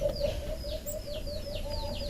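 An alimokon chick chirps in a series of thin, high, downward-sliding peeps repeated every fraction of a second, heard close over a steady low hum and background noise.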